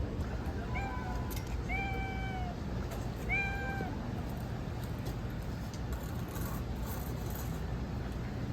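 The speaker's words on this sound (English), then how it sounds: "There's two cats that are walking around." Two cats meow a few times near the start, short rising cries spaced a second or so apart, over a constant wash of traffic and street noise that carries on alone afterward.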